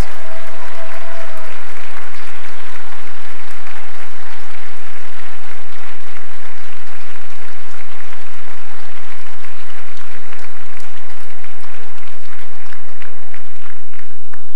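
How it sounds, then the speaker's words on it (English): An audience at a high school winter band concert gives a sustained, loud round of applause for the graduating band seniors, clapping steadily throughout with a faint hum beneath. "How about a round of applause for our 21-22 band seniors?"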